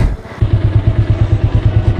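Several motorcycles labour over snow on a mountain ride, engines chugging with a steady rhythmic thumping and clatter, fairly close and loud throughout, with no talk.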